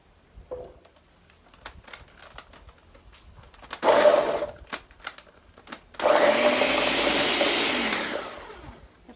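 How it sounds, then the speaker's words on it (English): A kitchen blender chops rhubarb in two bursts, a short whir and then a longer steady roar, between quiet handling clatter. "which we're going to use our handy dandy blender for"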